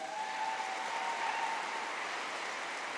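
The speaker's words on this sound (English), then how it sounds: "give him a round of applause in his absence" Steady applause from the audience at the 2024 Australian Museum Eureka Prizes award ceremony, an even, continuous patter heard faintly at a distance.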